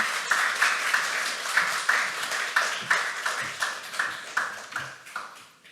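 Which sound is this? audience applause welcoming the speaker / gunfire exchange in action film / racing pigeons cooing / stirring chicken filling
audience applause welcoming the speaker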